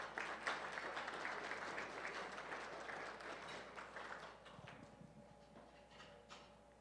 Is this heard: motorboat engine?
no